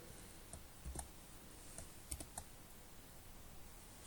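Computer keyboard typing out lines of code, a handful of light, scattered key clicks, quiet and close with no voices over them.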